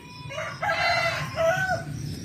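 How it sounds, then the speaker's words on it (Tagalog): A rooster crows nearby with drawn-out, wavering calls, backed by a few clucking chickens grazing on grass and a low outdoor rumble. "ayan dyan na sila mga manok oh."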